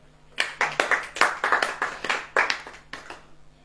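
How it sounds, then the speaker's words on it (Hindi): A congregation at a church gathering claps in short, uneven bursts, several distinct rounds of hand claps starting and stopping close together, fairly near and with no talk. "ताली बजाओ।"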